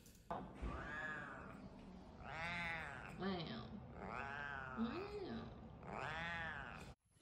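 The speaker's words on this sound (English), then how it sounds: "that was the, like, deepest cat meow I've ever heard" Deep, drawn-out cat meows repeat in a slow series, four long yowling calls, loud and close, with a growling, caterwauling quality.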